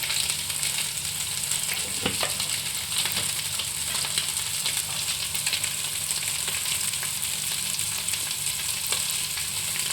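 Soybeans and chana dal fry in a pan with turmeric and salt, producing a loud, continuous, even sizzle with faint crackles that runs throughout without any voice.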